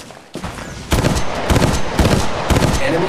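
Automatic weapon fire in the mobile shooter Apex Legends Mobile, loud rapid bursts of gunshots repeating in quick volleys, close and dominant throughout.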